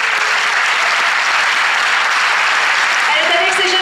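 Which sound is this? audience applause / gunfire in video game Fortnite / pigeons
audience applause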